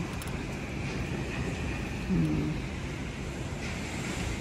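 Strong, steady typhoon wind roars continuously against the microphone, a broad rushing noise with a slight gust midway.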